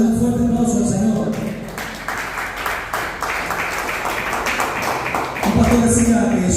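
A church congregation claps in praise during an evangelistic service, a moderate burst of scattered applause mixed with voices, swelling and easing over several seconds.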